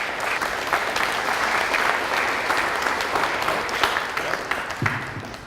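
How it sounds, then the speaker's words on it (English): An audience at a careers event gives a round of applause, a loud continuous wash of many clapping hands that holds steady and starts to fade near the end. "Give Ryan a round of applause, please"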